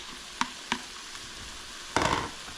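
Sausage dropped back into a hot pan gives a couple of sharp clatters, then a short burst of sizzling near the end, with quiet frying between.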